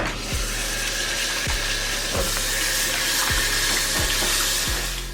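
Pigtail being washed under a running kitchen tap, a loud steady rush of water with regular splashing knocks as the meat is handled.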